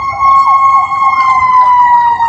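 A loud fire truck siren wails close by with a steady high tone and a rising-and-falling pulse, sounding continuously without talk.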